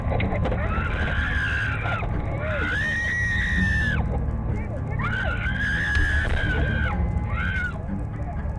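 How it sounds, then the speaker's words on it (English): A woman screams repeatedly in terror during a roadside robbery caught on a dashcam, her shrill, wavering cries coming loud and close in several long bursts over engine and street noise. "The driver's terrifying screams can be heard throughout the entire ordeal."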